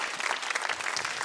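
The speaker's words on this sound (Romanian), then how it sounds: "Aplauze furtunoase pentru voi." Studio audience at a Romanian family game show breaks into dense, steady applause, a loud continuous wash of clapping with no speech over it.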